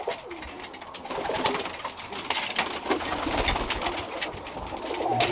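Birmingham Roller pigeons coo in a breeding loft, soft repeated murmuring calls mixed with rustling and light scraping, fairly close.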